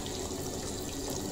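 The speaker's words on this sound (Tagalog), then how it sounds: "at naglalagay din po ako ng konting tubig" A little water poured into a pot of pork adobo cooked with yellow ginger, a steady low splashing and trickling stream, heard alone without talk.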